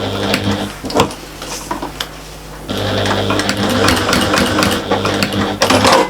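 Sewing machine stitching back over the first stitches on a big shopper bag's strap, a steady mechanical whirr in short runs that pauses briefly, then resumes louder and continues to the end.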